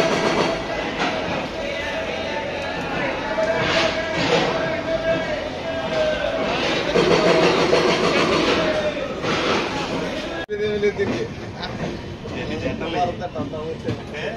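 An Amrit Bharat Express train at Rajahmundry railway station makes steady rumbling and clanking, with a high tonal whine and a sharp slam partway through. A person talks over the station noise.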